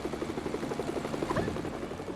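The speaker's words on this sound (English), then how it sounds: "I still prefer the police helicopter over this" A police helicopter in the Lego Batman 2 DC Super Heroes video game whirs with a steady rapid rotor chop and engine drone, close and continuous throughout.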